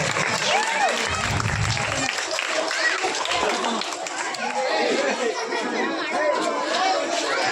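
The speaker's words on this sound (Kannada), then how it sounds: "ಎಲ್ಲರೂ ಚಪ್ಪಾಳೆ ತಪ್ಪಬೇಕು." An audience claps to welcome a troupe of singers at a temple committee event, the dense patter of hands mixed with crowd chatter and voices throughout.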